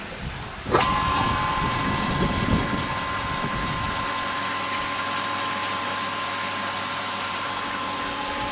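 A garden hose watering fixture in a windy vegetable garden is cranked open, and the water bursts into a loud, steady hissing spray that continues without letup, with a faint background drone underneath.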